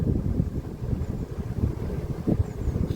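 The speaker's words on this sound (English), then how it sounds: "See how we get on in this wind getting onto our mooring" Gusty wind buffets the microphone at a boat mooring, a loud low rumbling roar with uneven surges and no clear voices.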